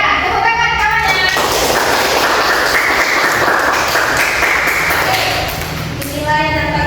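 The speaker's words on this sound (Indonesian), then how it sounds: "tepuk tangan kawannya" Classmates applauding in a school classroom presentation setting, a steady, loud wash of clapping that continues for several seconds and tapers slightly near the end.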